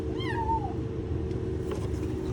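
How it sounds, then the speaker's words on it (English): A cat caught inside a truck lets out a single clear, rising-then-falling meow near the start, then falls quiet under a low, steady engine-like hum and faint background noise. "Meow."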